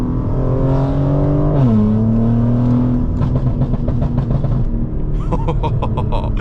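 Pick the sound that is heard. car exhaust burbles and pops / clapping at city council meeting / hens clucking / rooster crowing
car exhaust burbles and pops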